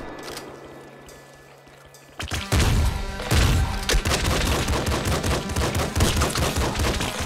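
Pistol shots in the video game Nuclear Throne, fired in rapid succession after a quieter opening, forming a dense, loud run of sharp repeated bursts over game sound.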